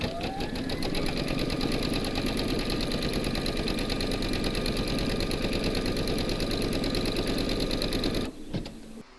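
A sewing machine stitches a motif design into a quilt block for a reversible quilt, running loud and continuous at close range for about eight seconds before it halts.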